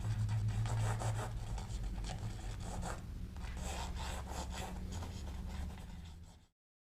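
Brush strokes of Liquitex acrylic ink across canvas in calligraphic writing, a steady close rubbing and scratching texture with rhythmic stroke pulses that runs continuously before stopping abruptly.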